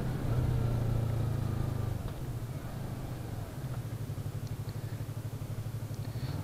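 A Yamaha R3 motorcycle engine revs and idles on a street, a steady low drone that eases off after a couple of seconds and then holds at a pulsing mid-level throb.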